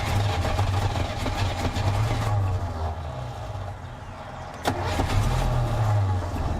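A 1967 Buick GS 340 engine, abandoned and crushed, cranks with a rhythmic low churning that swells and fades in pulses, close and loud, with a brief sharp clunk partway through.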